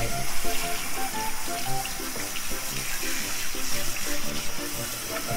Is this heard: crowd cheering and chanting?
no